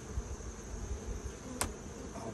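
Honey bees buzz softly around an open experimental horizontal hive, a faint, steady drone with one brief sharper sound near the middle.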